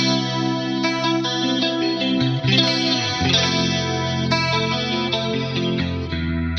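Clean 1980s-style electric guitar through an Axe-Fx III preset with lush chorus and a touch of distortion, sustained chords and ringing notes shimmering for several seconds, alone with no voices.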